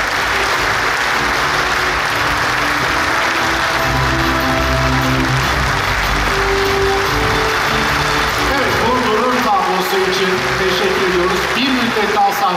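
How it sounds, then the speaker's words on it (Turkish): Loud, continuous audience applause fills the hall at a plaque presentation ceremony, a dense steady clatter of many hands with music playing underneath. "Sayın Diego Aponte ve Sayın Ela Soyar Aponte bu plaketi alkışlarınızla alıyorlar."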